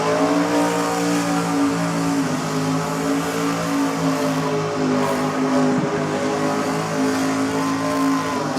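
Race car engine in a racing event, revving hard at high RPM with a loud, sustained, harmonic-rich whine that holds steady and close throughout, with no voices.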